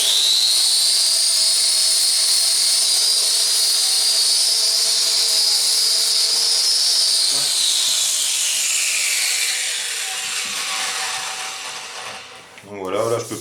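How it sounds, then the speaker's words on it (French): An angle grinder with a flap disc grinds down screw tips with a loud, steady, high whine for about seven seconds, then gradually spins down. "moi je prends ça, la meuleuse avec le disque à lamelles, là"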